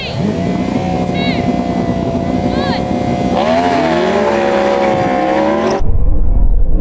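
A Yamaha R1M superbike, Porsche Taycan Turbo GT and Ferrari SF90 launch in a drag race, with a loud sustained engine roar whose pitch climbs as they accelerate before a sudden cut to a deeper rumble.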